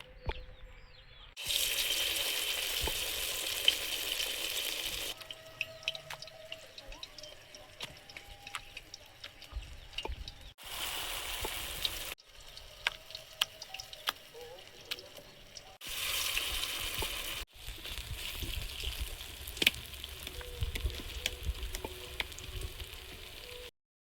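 Pumpkin flower fritters frying in oil in a wok: a steady broadband sizzle that surges loudly in several bursts as batches drop in, with occasional ticks and clinks of utensils between quieter stretches.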